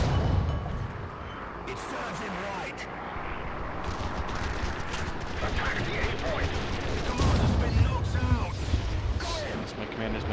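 Dense War Thunder tank battle with a T-28 tank's machine gun turrets firing amid heavy artillery and gunfire bursts, loud and continuous, with a voice talking over it.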